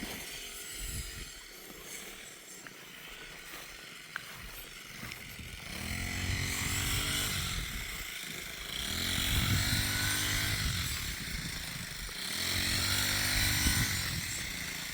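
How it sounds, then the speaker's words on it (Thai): A small two-stroke brush cutter engine drones loudly and keeps surging as it bites into rice stalks, its pitch rising and falling in repeated cutting passes. "ใส่ทั้งเครื่องตัดหญ้า"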